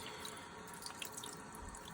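Cold tap water runs steadily from a faucet as a shaving brush is rinsed under it, a close, continuous splashing with small drips throughout.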